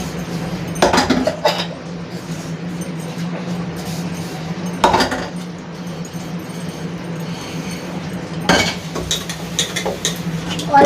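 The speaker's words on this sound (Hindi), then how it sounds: "गर्मियों में सबसे ज्यादा गिलास ही निकलते हैं साफ करने के लिए।" Drinking glasses being washed at a kitchen tap, with a few separate bursts of clinking and knocking over a steady hum of running water close by.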